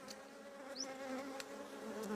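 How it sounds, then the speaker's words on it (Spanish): A wasp trapped inside a beehive box makes a faint, continuous droning buzz that wavers slightly in pitch, with no voices over it. "ahí se ha metido una avispa"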